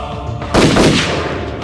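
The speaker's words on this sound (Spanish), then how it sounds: "Gritó Alexa, acertándole 2 disparos al soldado" A loud, sharp gunshot bursts out close by, followed by a second quick report and a lingering echo.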